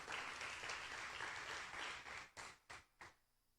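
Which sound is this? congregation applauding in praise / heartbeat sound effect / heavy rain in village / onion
congregation applauding in praise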